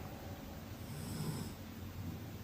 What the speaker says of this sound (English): That's actually Douglas snoring